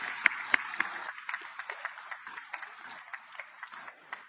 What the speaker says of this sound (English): So a round of applause for the family.